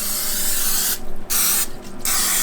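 Cooking oil sprays from a can onto a vegan turkey roast in two short, loud hissing bursts close by, separated by a brief pause.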